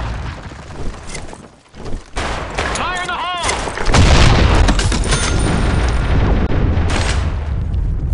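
Loud bursts of gunfire and booming explosions from the online shooter game BlackShot, dense and rumbling through the whole stretch, with a whooping effect in the middle and excited players talking over it.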